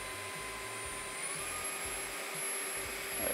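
A Dreame H12 Pro wet vacuum cleaner runs over spilled ketchup and mayonnaise, its motor holding a steady loud whine that rises in pitch as suction increases, with rhythmic low brushing pulses underneath and no talk.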